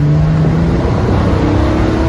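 A Triumph TR6 pulling away on a test drive after ignition timing adjustment, a loud, steady close engine drone with a rising tone, no voices.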